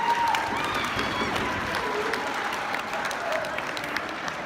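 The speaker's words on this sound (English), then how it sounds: "let's give Mr. Livingston one more round of applause" A school assembly crowd applauds for Mr. Livingston, steady dense clapping at moderate distance with a few voices mixed in, sustained throughout.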